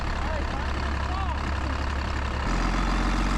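A Cummins Banshee truck engine idles after backing into a parking spot, a steady deep drone that turns louder and rougher partway through.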